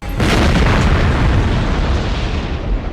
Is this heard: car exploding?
yes